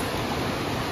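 Waterfall at Sahastradhara near Mussoorie, a steady broadband rush of falling water filling the whole second, loud and continuous with no voices over it.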